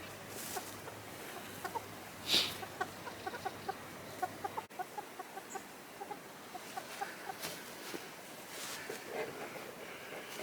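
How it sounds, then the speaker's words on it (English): Chickens on their first run outside cluck in short, scattered, soft calls at a moderate distance, with a brief louder squawk early on and light outdoor background noise. "So chickens are having their first run outside."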